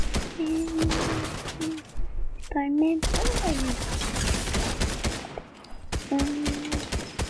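Video game gunfire in a Fortnite match crackles in rapid bursts throughout, mixed with in-game tones, while players talk excitedly over it.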